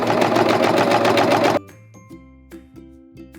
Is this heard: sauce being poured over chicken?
no